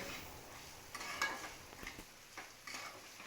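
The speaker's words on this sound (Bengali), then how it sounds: "মাখিয়ে রাখা চালটা দিয়ে দেব চালটা এবার কিছুক্ষণ ভেজে নেব" Rice is fried with whole cardamom, cloves and cinnamon for pulao, a quiet sizzle with soft scraping stirs in the pan, heard close but faint and with no voices.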